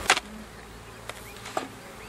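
Honeybees at an open hive on a warm day during requeening make a faint, steady buzz, with a few brief knocks at the start and scattered moments.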